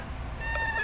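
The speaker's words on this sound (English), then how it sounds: "That's my cat in the background in case you hear him." A male pet cat meows once in the background, faint and somewhat drawn out, over a steady low hum of room noise.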